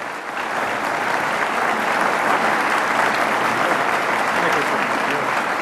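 An audience welcoming lecturer Lee Hamilton at a foreign policy talk bursts into sustained, loud, even applause from a large crowd, steady for several seconds.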